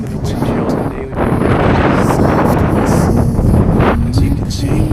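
Steady, loud wind buffeting the microphone with a continuous low rumble, while someone speaks over it throughout.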